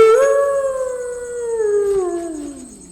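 A jackal howls near a jungle shelter on a rainy night, one long wavering cry close and loud that slowly slides downward and fades over three seconds, with no talk.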